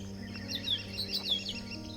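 Small birds at a garden bird feeder give quick, bright chirps and short tweets, several close calls in a brief burst over a low background hum.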